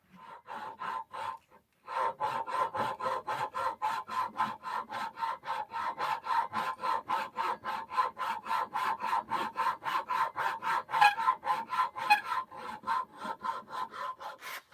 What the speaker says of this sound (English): I hit it really quickly on the sander